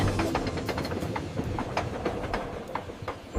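A passing train rattles with rhythmic clickety-clack wheel beats and a steady rolling rumble, fairly loud and continuous with no talk over it.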